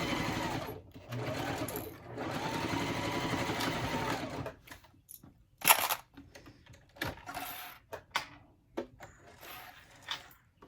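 A sewing machine back-stitches fabric for a bowler bag, first a long, steady mechanical whir, then short stop-start bursts and clicks as the stitching is adjusted, close and unaccompanied by speech.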